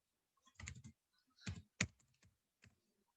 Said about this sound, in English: And then I'm going to type trends.